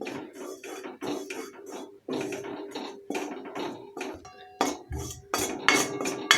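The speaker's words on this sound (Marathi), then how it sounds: "बेसन पीठ भाजताना मी सतत हलवत होते" Gram flour roasting in a pan while being stirred, close metallic scraping and clinks of a spoon against the pan in uneven bursts, alone without talk.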